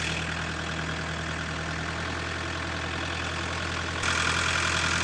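The diesel engine of a MK2 Golf GTD with an oil leak runs steadily at a close idle, its tone rising as it is revved up near the end, with no talk.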